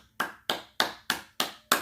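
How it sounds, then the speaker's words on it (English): Six slow, evenly spaced hand claps sound close and crisp, each a sharp snap with a short decay, and there is no talk. "Is that how you applaud?"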